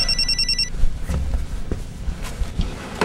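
A telephone bell rings in short electronic bursts at the start and then stops. Indoor handling noises and soft thumps follow, with no talking.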